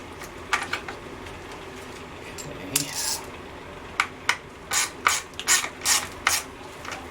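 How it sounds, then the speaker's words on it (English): Plastic housing of a Craftsman string trimmer takes a screw by hand, giving a series of small close ratcheting clicks and scrapes, sparse at first and then quicker near the end, over quiet room tone. "Not too tight because you're screwing into plastic."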